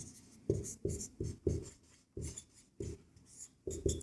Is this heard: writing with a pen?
yes